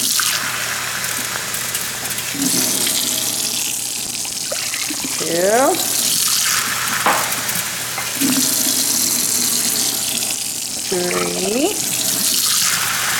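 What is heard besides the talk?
water running from tap into a pot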